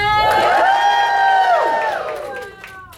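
A large audience roars back a greeting in unison, a loud sustained group shout with whoops that swells and then fades over about two seconds.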